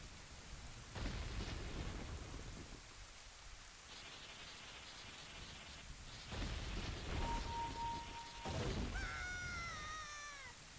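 In-game rain and rolling thunder from The Legend of Zelda: Ocarina of Time: a constant rain wash broken by several loud thunder rumbles, with a brief musical chime near the end.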